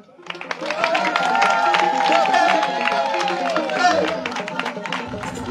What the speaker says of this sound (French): Applaudissez encore pour lui.